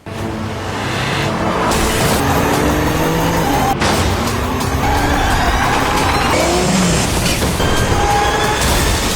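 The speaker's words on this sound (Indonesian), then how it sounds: "Tapi Jenderal Oh berusaha kabur dan menabrak mobil Gion hingga terguling." A fleeing car roars past with tires squealing, a sharp impact lands partway through, and loud engine and skidding noise continues afterward, dense and close throughout.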